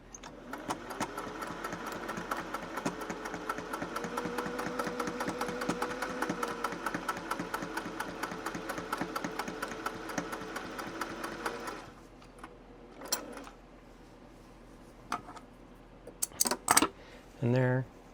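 A Singer 401A sewing machine stitches steadily through four layers of fabric, a dense rapid needle rhythm running for about twelve seconds before it stops, followed by a few scattered clicks and light handling knocks.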